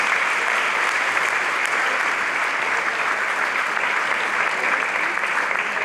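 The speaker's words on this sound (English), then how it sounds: "a huge round of applause again" Sustained, dense applause from a large audience at a ribbon-cutting and grand opening ceremony for a performing arts center, loud and continuous throughout with no voices above it.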